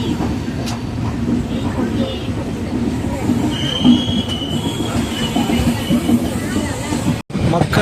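A Vaigai SF Express passenger train runs on rails from Madurai to Chennai Egmore near Melmaruvathur, heard from on board as a loud, steady rumble with metallic wheel squeals and clatter throughout.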